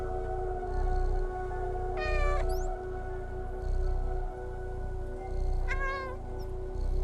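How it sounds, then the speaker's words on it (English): A cat in the video game Stray meows twice, clear and close, over a steady low electronic hum with a faint rhythmic background pulse; no talking. "You can meow."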